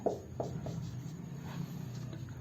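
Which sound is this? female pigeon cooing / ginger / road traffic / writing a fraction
writing a fraction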